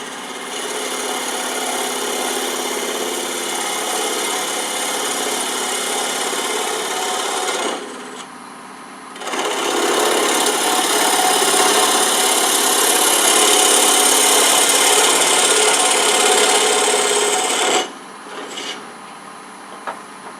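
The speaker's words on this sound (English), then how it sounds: "I'm going to use a small 3/8 inch bowl gouge for this" A small 3/8 inch bowl gouge cutting burl wood on a lathe, a loud continuous scraping rasp that pauses twice briefly before resuming, with no voice.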